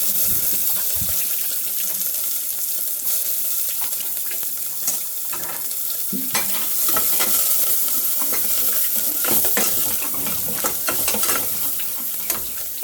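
Chilli and onion fry in oil with mustard seeds in an Indian home kitchen, a close, dense crackling sizzle with sharp sputtering pops and scraping stir sounds throughout, with no voices.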